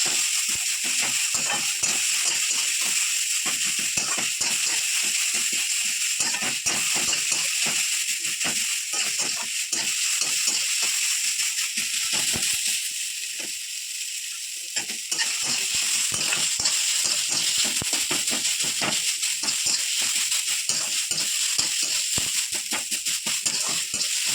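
Potatoes frying in a small amount of oil in a home kitchen pan. A loud, continuous hissing sizzle is broken by crackly spatter and stirring scrapes, steady throughout.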